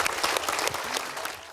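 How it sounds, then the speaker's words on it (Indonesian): Brief, dense applause from a crowd at an Indonesian talk show, loud and continuous for the whole short burst before cutting off abruptly. "Oke, tepuk tangan."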